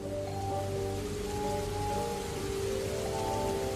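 Light drizzling rain falling steadily on a surface, a constant soft patter over a low hum, with no voices throughout.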